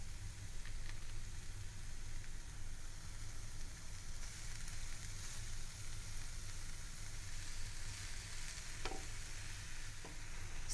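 Onions and spinach sautéing in a pan for Greek spinach pie, a steady broadband sizzle with occasional stirring scrapes, close and continuous, with no talking.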